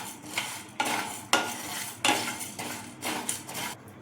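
Fenugreek seeds dry roasting in a pan for raw mango pickle, with repeated scraping and clinking strokes of a spoon against the metal at an irregular, steady pace, close and fairly loud, with no talk.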